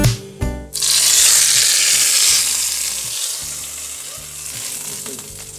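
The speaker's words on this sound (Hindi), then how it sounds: "चले अब हम आलू के रायते पर तड़का लगाते हैं।" Loud, steady sizzling of cumin tempering in hot oil poured onto potato raita, starting with a sharp burst and continuing as a bright crackling hiss.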